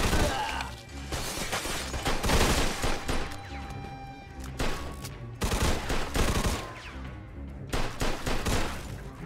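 Dense, loud gunfire from a Mafia II shootout, with bursts of rapid shots and overlapping reports that keep going through the whole stretch, pausing only briefly between volleys.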